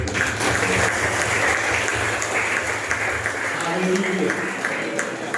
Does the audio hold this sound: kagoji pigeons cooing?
no